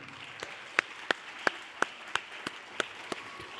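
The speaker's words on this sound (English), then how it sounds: "one more round of applause for our 2019 royalty" Sparse applause for outgoing pageant royalty at a city pageant, a handful of separate, sharp hand claps at an irregular pace over a soft background murmur.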